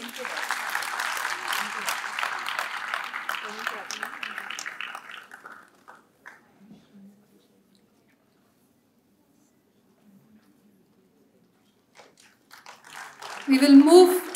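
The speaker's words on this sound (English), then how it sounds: "Let's keep that applause going" Applause at a university research and innovation awards ceremony, moderate clapping for about five seconds that thins out into near silence, then a voice begins speaking close to the microphone.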